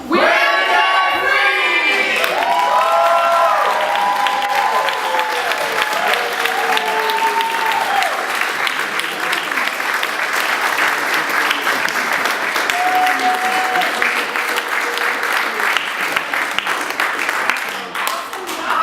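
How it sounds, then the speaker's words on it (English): A studio audience on a call-in radio show lets out a loud, high debt-free scream, then breaks into sustained, dense applause and cheering that fills the whole stretch before tapering at the end. "Let's hear a great debt-free scream."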